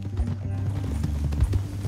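Horse hooves gallop in Red Dead Redemption 2, a steady rhythmic thudding over a low rumble, fairly close and continuous, with a voice faintly present.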